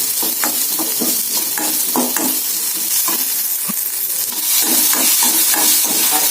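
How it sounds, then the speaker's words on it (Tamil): Ginger being sautéed in a pan for mint chutney: a constant sizzle with repeated rhythmic scrapes and knocks of a spoon stirring, close and fairly loud, without speech. "இஞ்சி போட்டிருக்கேன் கொஞ்சம் வசக்கிட்டு"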